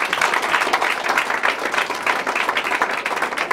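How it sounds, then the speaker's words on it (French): Church congregation applauding and cheering for Jesus, dense, loud, sustained clapping from a large crowd filling the whole moment. "Est-ce qu'on peut acclamer Jésus?"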